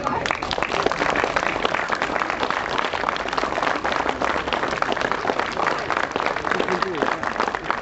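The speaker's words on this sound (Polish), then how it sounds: "Bardzo proszę o brawa." Audience applause at the results announcement of the fourth Lubelskie open medical rescue championships, dense sustained clapping from a crowd filling the room at steady loudness throughout.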